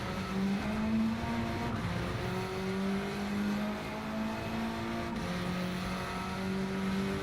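Race car engine in the Gran Turismo 7 racing game, a steady loud drone with rising and falling pitch as the car shifts through gears and laps, no voice over it.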